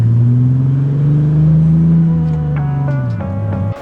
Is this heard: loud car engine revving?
yes